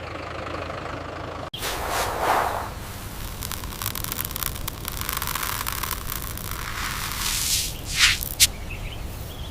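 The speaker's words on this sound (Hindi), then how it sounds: "ट्रैक्टर हल्के पेस पर, ताकि हर कोना कवर हो जाए बार" A tractor works a wheat field in a village at a slow pace, its engine giving a steady low drone under broad hissing, wind-like noise, with a few brief louder rises near the end.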